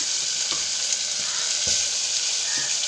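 Onion, tomato and ginger-garlic paste sautéing in a pan for vegetable biryani, a steady close sizzle with a few soft scraping stirs, no talking.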